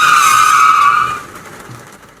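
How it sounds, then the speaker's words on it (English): A car brakes hard and its tires skid with a loud, sustained screech that fades away after about a second, leaving quiet low road noise. "Quickly, she put her foot on the brake."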